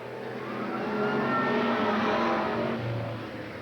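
Race cars roar past on the 1987 Eugene Speedway oval, a loud engine drone swelling and fading as they run neck and neck down the back stretch, with no voice over it.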